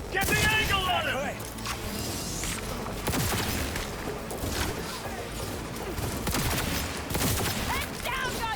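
Bursts of gunfire in the game Cyberpunk 2077, repeated sharp shots and rattling volleys over a busy combat background, with voices shouting throughout.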